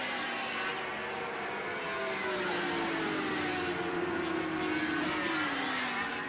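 Super Stock 1000 racing motorcycles scream past the finish line at the Pannonia Ring in Hungary, a sustained loud engine roar that shifts in pitch as the bikes sweep by, with no talking.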